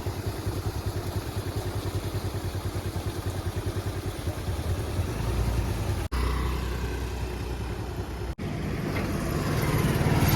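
A scooter engine runs steadily while water is carried on it for watering saplings in Punjab, a continuous close motor drone that swells slightly louder in the last seconds, with two brief dropouts.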